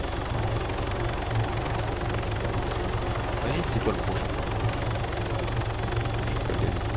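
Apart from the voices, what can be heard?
helicopter flying in a video game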